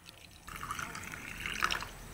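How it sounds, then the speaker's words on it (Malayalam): Cooled boiled water poured into a jar of gooseberry pickle, a soft trickling fill that starts halfway through and continues quietly, close by and faint. "തിളപ്പിച്ച് ആറിയ വെള്ളം കൂടി ഒഴിക്കാം."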